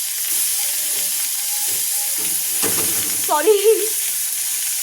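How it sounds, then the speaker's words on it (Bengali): Chopped tomatoes tipped into hot oil for a homemade recipe, a loud continuous sizzle and hiss with a burst of spattering midway, and a brief spoken word near the end. "তারপর কেটে রাখা টমেটোগুলো অ্যাড করতে থাকবে এখানে"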